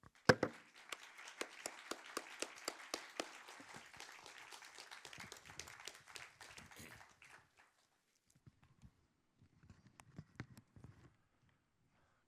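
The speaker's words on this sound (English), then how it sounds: "let's also give him a round of applause." An audience applauds a speaker coming on stage at an evening talk. Crisp, fairly sparse claps patter for about seven seconds, then give way to faint scattered shuffling and footsteps.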